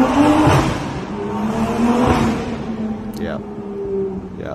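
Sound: new Toyota Supra engine revving

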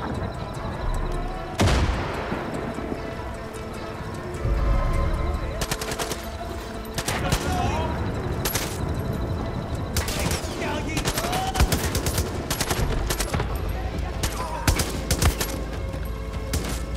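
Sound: gunfire in the video game Far Cry 5

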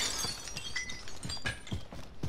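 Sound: glass breaking in a video game

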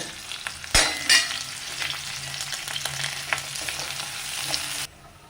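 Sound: onion and curry leaves frying in hot coconut oil

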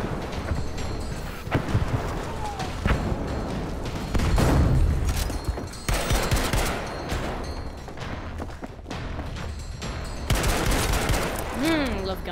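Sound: gunfire in a video game

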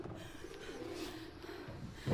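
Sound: cooing pigeons in the video game Mirror's Edge Catalyst

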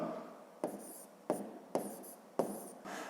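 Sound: writing math numbers by hand

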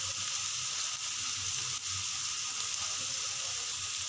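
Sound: onions being roasted and stirred in a pan

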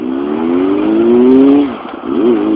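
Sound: motorcycle engine revving while warming up cold engine

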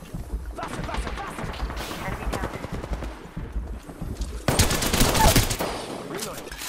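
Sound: gunfire in a video game

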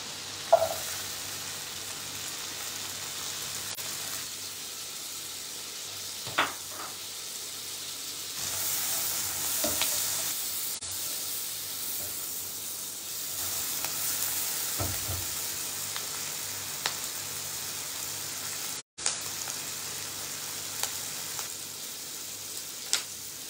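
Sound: garlic and onion frying in a pan

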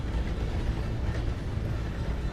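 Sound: steam train running, from the video game Red Dead Redemption 2

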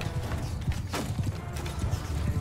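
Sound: horse hooves galloping in Mount & Blade 2: Bannerlord video game

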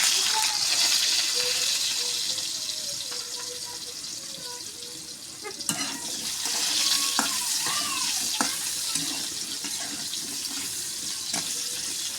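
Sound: potatoes frying in oil

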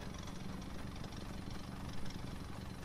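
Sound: Mythic Recycler engine-like noise in a video game

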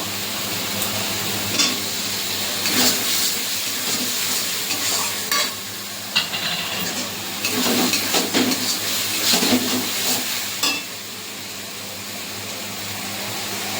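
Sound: ginger garlic paste and tomato frying in a pan

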